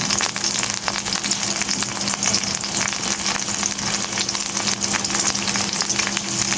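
Chili powder, green chilies, ginger and garlic sizzle steadily in hot oil for a fish curry masala, a dense continuous frying hiss with light crackle, close and loud throughout with no talk.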